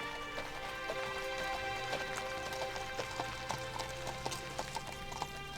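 Friesian driving horse hooves clip-clopping steadily on a hard surface, a regular rhythm of sharp close taps with light background noise and no talk.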